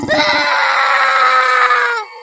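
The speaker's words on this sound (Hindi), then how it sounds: "तभी गोपी की चीखने की आवाज आती है" A single sustained, loud, high scream fills about two seconds in a dramatized horror story, rising straight out of a short noisy onset and cutting off abruptly.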